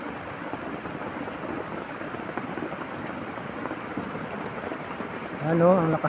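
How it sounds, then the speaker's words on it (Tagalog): Heavy rain pouring steadily as a dense, even hiss throughout, with a voice briefly heard near the end. "Kaso lang po ang lakas ng ulan dito ngayon."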